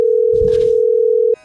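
A steady telephone dial tone heard while placing a call, a single continuous pure tone that holds loud and close before cutting off abruptly, with faint background noise.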